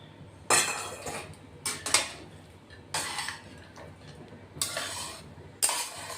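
A spoon stirs fried peanuts into poha in a pan, giving several separate bursts of scraping and clinking against the metal between quiet pauses, close and moderate in level.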